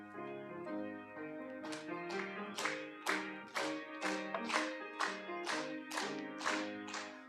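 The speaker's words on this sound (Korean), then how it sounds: "우리 499장 우리 박수 치면서 우리 결단하는 마음으로 찬송하십시다" A church congregation claps along in steady rhythm while singing a hymn with instrumental accompaniment, regular distinct claps landing on each beat over the sustained melody.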